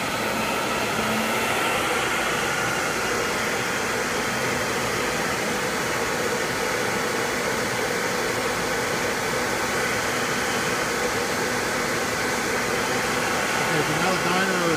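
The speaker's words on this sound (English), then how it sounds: "the dyno, so be prepared for very loud fans. I mean, crazy loud." A motor dynamometer's cooling fans roar in a loud, steady broadband whoosh throughout, with a low hum beneath, while a person talks over the noise.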